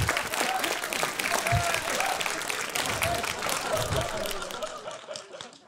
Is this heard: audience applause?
yes